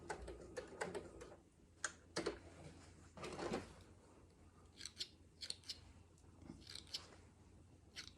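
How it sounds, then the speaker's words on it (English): Scissors snip sewing threads at a sewing machine, giving a run of sharp, close clicks and snips with brief pauses between them and no talk. "Cut your threads."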